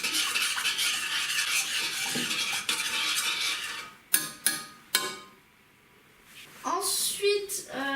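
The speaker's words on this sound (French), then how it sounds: "Ensuite, vous mélangez comme ça." Ingredients for homemade tacos, including salt, are stirred in a bowl with a utensil, giving a few seconds of soft scraping and clinking followed by sharp taps and a short pause, close by.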